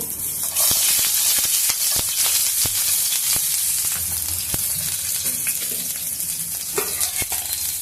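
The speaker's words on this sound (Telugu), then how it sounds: "దాంతోపాటు కొంచెము ఆవాలు జీలకర్ర వేయించుకున్నాము అవి వేగిపోయినవి" Onions, mustard seeds and cumin frying in a little oil in a pan, a steady dense sizzle and crackle with sharp pops and spits scattered throughout, close and continuous with no talking.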